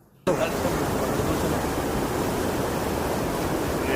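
Rainwater from a pond breached by heavy rain pours out in a continuous loud rushing roar, dense and steady from the start, like water gushing through a break in the bank.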